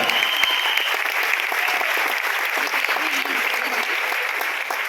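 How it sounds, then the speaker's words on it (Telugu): An audience at a talk on organic farming and a direct-selling business claps hard on request, a dense, loud, continuous burst of applause lasting several seconds with no lull. "ఒకసారి బలిసారికి జోరుగా మన క్లాప్తో థ్యాంక్స్ చాలా గట్టిగా జోరుగా"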